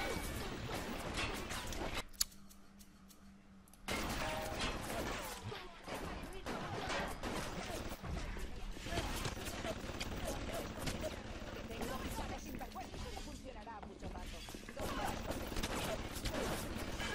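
Gunfire rings out in BioShock Remastered, dense bursts of in-game shots and crashes layered over a busy game mix, briefly dropping out near the start before resuming steadily, with someone speaking over it.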